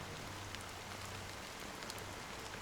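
Fine drizzle of black rain in Honkai: Star Rail, a faint, steady hiss of rain pattering on surfaces, with a low hum underneath and no voices.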